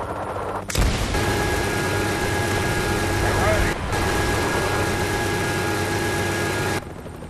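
A Hind attack helicopter sweeps in during a Call of Duty: Black Ops free-for-all match on the Berlin Wall map, a loud continuous engine and rotor roar with steady tonal whine lasting several seconds, mixed with game noise.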